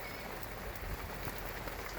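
Steady rain falls on a cold, wet campsite, a continuous broadband hiss with soft drops and occasional patters on nearby surfaces, close and even throughout, with no voices.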